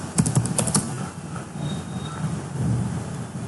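A quick burst of computer keyboard typing while entering MATLAB commands, several close key clicks in a row, then quieter room noise with a faint hum.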